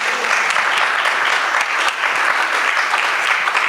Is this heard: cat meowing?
no